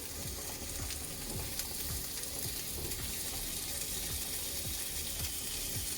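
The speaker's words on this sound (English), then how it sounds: "We are going to add some of our green pepper to this so that the flavors will be infused in the oil" Green pepper sizzles and fries in hot oil with onions in a pan, a steady close crackle with scattered pops throughout.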